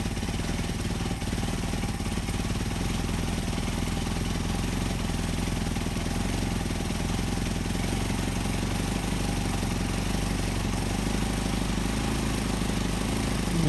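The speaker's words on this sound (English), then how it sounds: "So now we're going to get it back up to a decent idle" A Mercedes 190SL engine fitted with Solex carburetors idles in a steady, rumbling, mid-level drone that stays even throughout.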